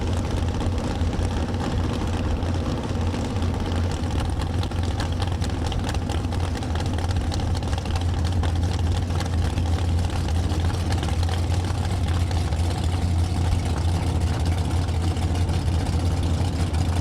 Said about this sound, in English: so it appears the car may still be running.